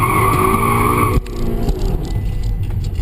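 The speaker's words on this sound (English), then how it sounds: "So let's go ahead and do a quick launch control." A 2011 Audi A3 launches hard under launch control, a loud strained engine roar holding high revs, then a sudden shift cut into a rougher, gravelly acceleration with possible tire noise, close and without talk.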